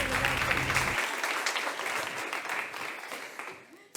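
An audience applauds in a dense burst of clapping that fades steadily over a few seconds, with a low hum cutting off early.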